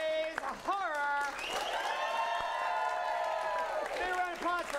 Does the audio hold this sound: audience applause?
yes